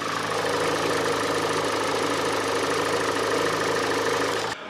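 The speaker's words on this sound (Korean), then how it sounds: "엔진 소리 한번 들어볼게요." A 2013 Kia K5 with a Nu engine idles with the hood open, giving a smooth, steady, close mechanical hum with a faint ticking rhythm and no voices.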